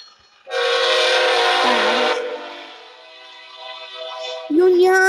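An Amtrak passenger train passes in New Mexico, sounding a loud, sustained multi-tone horn that holds for a couple of seconds before fading into a quieter rumble, and a voice cuts in at the end.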